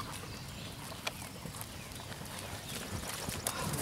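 Horse hooves clip-clop during a riding lesson in a faint, steady rhythmic beat, set against a noisy outdoor wash with scattered soft knocks and no clear talking.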